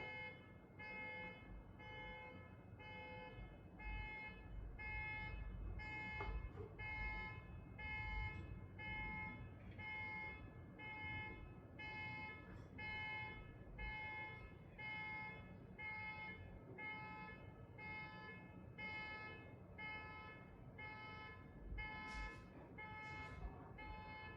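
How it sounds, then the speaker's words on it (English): A faint, continuous electronic beeping tone from a greeting card pulses steadily in a regular rhythm, quiet and repetitive throughout. "now that that card stopped beeping"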